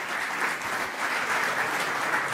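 A seminar audience in Buenos Aires claps steadily to welcome speakers, a dense, even wash of many hands filling the room without a break.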